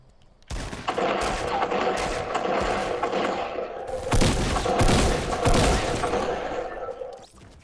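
Dense Fortnite gunfire crackles in rapid bursts, with heavy thumping booms from a grenade blast among the shots, loud and close, and voices talking over it.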